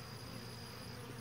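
Honey bees around a hive drone in a steady, even buzz, soft and close, with no talking over it.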